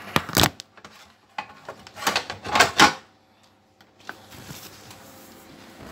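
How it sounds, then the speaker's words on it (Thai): The cover of a vintage Aurex Toshiba SB-210 amplifier being handled and closed: a few sharp clacks and rattling knocks of metal and plastic close by, then quiet scraping, with no talk. "เดี๋ยวผมปิดฝาเครื่องก่อนนะครับ"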